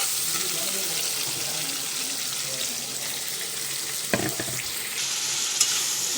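Prawns frying and being stirred in a pan, a steady hiss with occasional clatters of the spoon, close up and with no talk.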